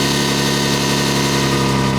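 An Audi Q7 engine idles high on a cold start after sitting for three days, a steady, droning hum that holds loud and even without change.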